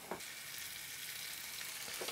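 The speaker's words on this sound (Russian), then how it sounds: "Все тщательно перемешиваю." Champignon mushrooms fry in a little butter in a pan and are stirred thoroughly, giving a steady, close hiss of sizzling with a few scraping stirs, no voices.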